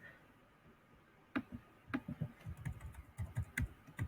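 Typing on a computer keyboard, a quiet opening followed by close, irregular key clicks in quick bursts, faint and alone with no voices.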